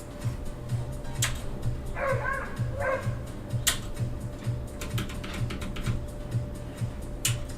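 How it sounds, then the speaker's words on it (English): A dog barks a few times in the background while computer keyboard typing clicks steadily through the clip, with a faint electronic hum underneath. "Manifested a dog barking."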